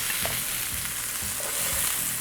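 Onions and celery sizzle in oil in a pan for fried sauce noodles, a constant bright frying hiss with rhythmic scraping stirs every half second or so, close up and without talk.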